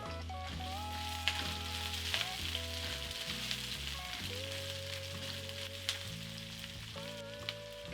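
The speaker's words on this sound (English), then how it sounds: "Into the pan, add the onions and start sautéing." Onions sizzle and fry in avocado oil in a preheated pan, a steady crackling hiss heard alone, with tonal music playing throughout.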